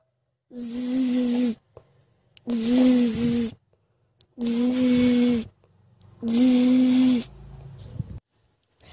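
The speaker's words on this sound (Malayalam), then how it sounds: "അടുത്തതായി നമുക്ക് ഫോണിലെ വൈബ്രേഷൻ കേട്ടാലോ." Four buzzing bursts, each about a second long, separated by short silences: a phone vibrating against a hard surface with a steady, rattly hum.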